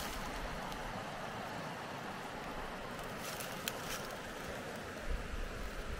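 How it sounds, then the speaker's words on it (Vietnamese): Steady broadband rush of a mountain stream flowing below a campsite, continuous and fairly faint, with a few small splashes and clicks near the end. "Ở dưới đây là tiếng suối nè"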